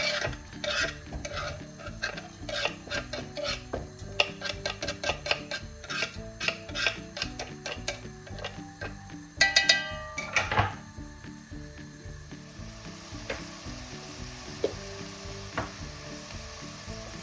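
Chopped onion hisses in heated oil while a utensil keeps stirring and scraping, adding frequent clinks and a louder clatter midway. The sizzle is steady and close, with no talk.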